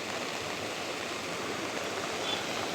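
Heavy floodwater after a downpour rushes through a stream channel in Anantapur, a steady, loud, broadband roar that holds unbroken throughout with no voices.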